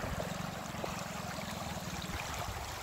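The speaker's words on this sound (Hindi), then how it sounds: "इसका जो पानी है बहुत तेजी से बहता है।" Fast-flowing river water at Malbazar in the Dooars rushes past in a steady, loud, continuous roar with a gurgling texture, and no voices are heard.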